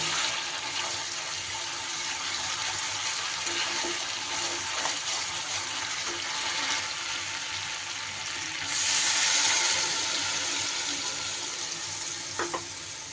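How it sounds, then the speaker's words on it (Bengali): Water poured into a pan of fried, sizzling spice paste for rohu thecha curry gives a continuous loud frying hiss that swells into a brief rush as the liquid hits, then settles back to a steady bubble. "এইবার এই পর্যায়ে দিয়ে দিতে হবে জল"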